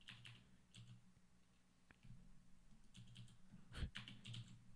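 Fingers tap out a quick, uneven run of keystrokes on a computer keyboard, close but faint, with brief pauses between bursts and no voices.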